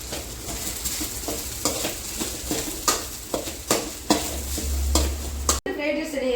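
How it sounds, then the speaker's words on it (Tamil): Cauliflower chilli being sautéed in a pan for homemade fried rice: a steady sizzle of frying runs throughout, with repeated scrapes and stirring knocks of a utensil against the pan, ending in a brief cut. "காலிஃப்ளவர் சில்லி கொஞ்சம் போட்டுக்கலாம். போட்டு வதக்கி விட்டுக்கலாம்."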